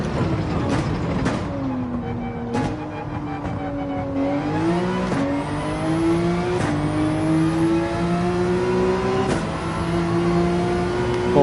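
Race car engine held at full throttle in Gran Turismo 7, a loud steady whine climbing in pitch through each gear, broken by sharp shift clicks and brief dips.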